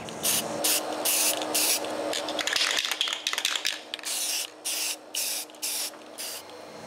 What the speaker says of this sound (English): I spray the best I can inside all the pockets and wait for the paint to dry